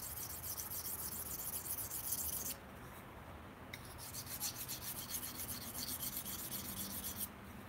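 Knives are sharpened on a stone with continuous rasping strokes, a dense scraping texture that runs close and steady, with two brief breaks.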